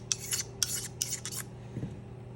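Kobalt utility scissors are drawn across a Twice As Sharp sharpener in about five quick, close rasping strokes, then a short quiet pause.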